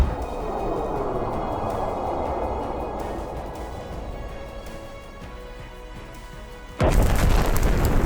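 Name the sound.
missile launch and explosion hitting Russian Solntsepek launcher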